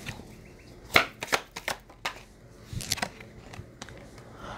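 Tarot cards being shuffled close up in short bursts of riffling and slapping, with quiet pauses between the bursts.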